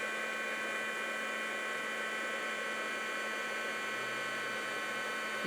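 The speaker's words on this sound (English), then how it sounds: "I need my heat tool. Let's just do a little heat embossing here." Heat embossing tool blowing hot air steadily over clear embossing powder on a card, a constant close whirring rush with no pauses.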